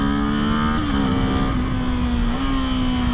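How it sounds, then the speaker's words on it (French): Kawasaki Ninja 7 Hybrid motorcycle engine revving up through the rev range, a loud, steady close-up drone whose pitch rises and dips a couple of times with no talking. "on fait ronfler le moteur, ça c'est agréable aussi"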